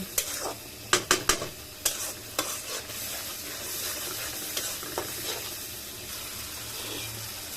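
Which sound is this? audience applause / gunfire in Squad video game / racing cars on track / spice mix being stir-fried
spice mix being stir-fried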